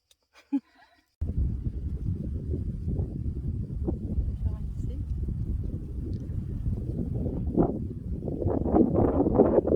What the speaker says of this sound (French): le bruit du vent va vous confirmer que nous sommes vraiment dans les hauteurs